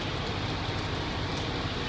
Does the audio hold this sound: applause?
no